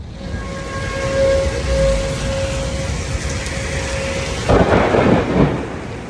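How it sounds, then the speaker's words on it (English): Thunderstorm during a tornado warning in Springfield, Illinois: steady heavy rain hiss with a faint siren-like tone, then a loud close thunder crash rumbling near the end. "It's a nasty ass storm."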